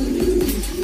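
A racing pigeon just back from a long release coos close and loud, a steady low throaty drone with soft pulsing swells running through the whole short moment, no voices present.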